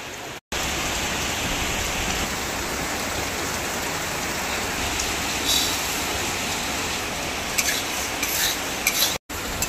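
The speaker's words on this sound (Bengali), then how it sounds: "এবার খিচুড়ি রান্না করার জন্য উনুনটা ধরিয়ে নিয়ে প্রথমে মুগ ডালগুলি ভেজে নেব।" Moong dal is dry-roasted in a pan over a lit stove, stirred with a steady, scratchy, rustling rasp that runs continuously with a few brief louder scrapes and no voices.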